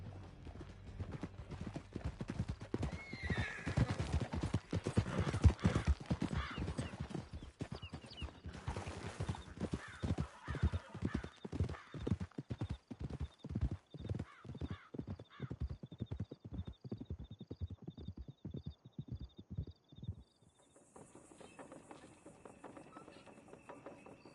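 Horses gallop across Red Dead Redemption 2 terrain, a dense, rapid clip-clop of many hooves with occasional whinnies, the hoofbeats gradually slowing and spacing out before ending, then a quieter tail with distant sounds.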